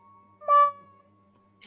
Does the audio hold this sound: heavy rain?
no